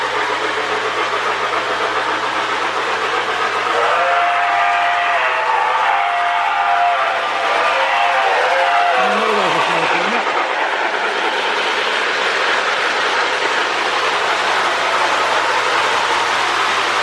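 A postwar Lionel 2055 Hudson model locomotive with magna-traction runs on track, making a loud, steady, continuous whirring rumble throughout. A brief wavering tone rises midway.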